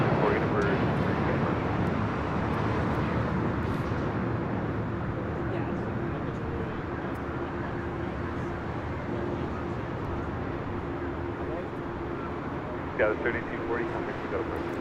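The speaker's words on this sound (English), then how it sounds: "Just had a United Dreamliner coming in from Tokyo Narita, Flight 33, 787-10 Dreamliner just arriving here on the south side." A United Boeing 787-10 Dreamliner arriving from Tokyo Narita on the south side of LAX makes a broad, steady jet roar that slowly eases off, heard outdoors with some wind.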